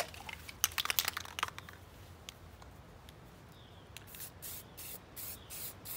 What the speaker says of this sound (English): when you're spray painting